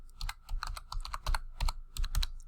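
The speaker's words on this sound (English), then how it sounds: "so I'm going to type in C." Keys clacking on a computer keyboard, short bursts of close, crisp strokes in uneven clusters over about two seconds, with no voices.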